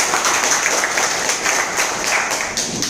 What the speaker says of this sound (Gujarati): કલ્પનાબેન હેતલભાઈ માટે જોરદાર તાળી દઈએ.